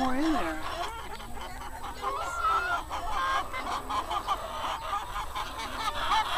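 Chickens cluck and squawk nearby while people talk over the birds, during egg gathering on a farm.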